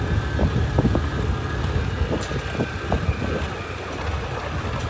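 A motorbike engine runs steadily on a mountain road trip in Salyan, Nepal, a continuous mid-range drone with low rumble and scattered bumps, fairly close throughout.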